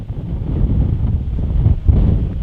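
Stiff wind blowing outdoors on a disc golf course, a loud, steady low rumble of gusts buffeting the microphone with no voices.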